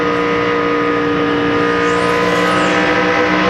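A NASCAR stock car at the 2002 Pennsylvania 500 howls loud and constant through a corner at over 9,000 RPM, the engine note holding a steady, high-pitched roar.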